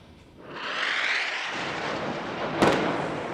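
A dawn airstrike in Gaza, a deep rolling blast that swells and rumbles on, then a sharp crack followed by more low rumbling, loud and distant.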